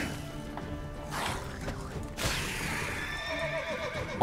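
Horse riding in The Witcher 3: a horse whinnies loudly, with clip-clop hoofbeats and game ambience underneath, all close and clear.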